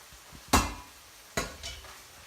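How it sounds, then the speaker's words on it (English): Drained linguine tossed with butter in a pan, two sharp metallic knocks of a utensil against the pan a second apart over a faint background. "Just stir that round so it takes on the butter"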